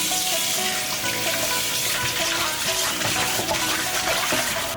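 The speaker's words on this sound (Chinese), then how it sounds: "把摘好的排骨用清水清洗干净。" Chopped pork ribs rinsed in clean water, a continuous loud splashing and sloshing with faint knocks of meat against a bowl, steady throughout and with no voices.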